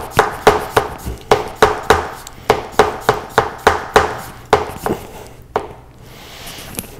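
A Yukihiro Sakai Hinokuni Shiro Kurouchi White #1 240mm nakiri knife slicing a starchy potato thinly on a board: a fast, steady series of crisp chops, about sixteen close strikes, then a few slower ones before stopping.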